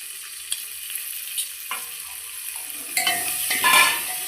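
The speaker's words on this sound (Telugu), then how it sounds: "కొంచెం కరివేపాకు పుదీనా వేసుకోవాలి" Curry leaves and mint dropped into hot oil over fried onion for a Telugu goat head curry, quiet at first, then a sudden crackling sizzle that swells toward the end, with a few utensil knocks against the pan and no talk.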